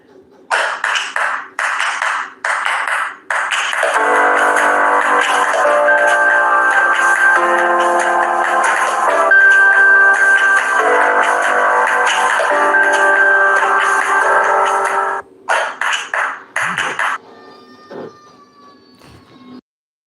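Sky TV channel break bumper and ident playing, a sustained stretch of loud jingle-like music with steady tones, preceded and followed by short choppy bursts of sound.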